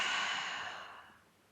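A single long exhale during guided meditation, a soft breathy whoosh that starts fairly loud and fades gradually over about a second and a half, heard close and alone in a quiet room.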